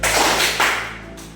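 Indonesian vocational school students in a classroom perform the 'tepuk pagi' rhythmic clap: a loud burst of group clapping, two sharp clustered hits about half a second apart, fading into room echo with no talking.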